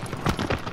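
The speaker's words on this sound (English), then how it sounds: "Okay, horse, calm down. Trot. I said trot." Horse hooves trotting in the Shadow of the Colossus video game, a rapid run of dull thuds over a dense noisy background, close and moderately loud.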